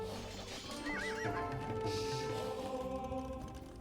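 A horse in the Age of Empires II video game neighs with a wavering whinny over hoof clip-clops and a low in-game ambience.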